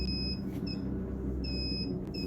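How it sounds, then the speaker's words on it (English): A fire alarm sounds in a storage room during a power outage, with repeated high electronic beeps in pairs over a steady low hum and rumble. "A power outage in one of the storage rooms was causing the fire alarm to go"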